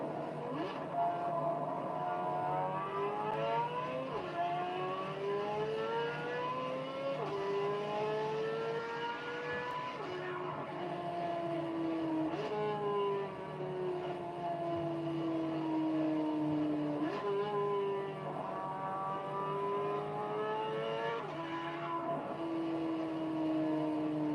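A high-revving Corvette Z06 engine cycles up and down through gears, its exhaust loud and continuous, with repeated rising pitch sweeps and no talking.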